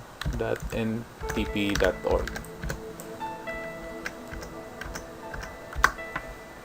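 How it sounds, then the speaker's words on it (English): Computer keyboard keys clatter in quick bursts and pauses during a XenServer 6.5.0 installation, moderately close, with a faint background hum and a voice talking over part of it. "I will type it directly."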